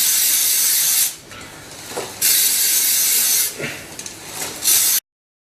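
Degreaser sprayed from an aerosol can onto a motorcycle chain during a service, in several loud hissing bursts of about a second each, separated by short pauses, close up with no talk.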